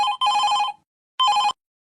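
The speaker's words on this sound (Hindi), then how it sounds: "ए अम्मा फोन उठाइला और स्पीकर पे करा तो" An electronic telephone bell rings in a cartoon, two clear trilling bursts separated by a short silence, loud and close with no voices.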